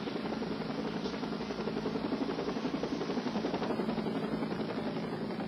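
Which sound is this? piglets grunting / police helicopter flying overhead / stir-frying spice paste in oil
police helicopter flying overhead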